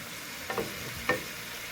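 Vegetables with chili peppers frying in a pan for a vegan pizza, the moisture sputtering: a low steady sizzle broken by two short crackling pops, close and quiet.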